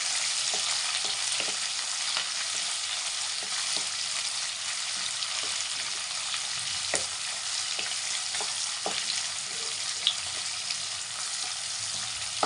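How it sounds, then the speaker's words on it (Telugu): Chopped onions and two green chillies fry in a pan with a steady bright sizzle, punctuated by occasional soft scrapes of stirring. "కట్ చేసుకున్న ఆనియన్స్ కట్ చేసుకున్న రెండు పచ్చిమిర్చి అండి ఇది మొత్తం కొంచెం మంచిగా బ్రౌన్ కలర్ వచ్చిన వరకు వేసుకోవాలి"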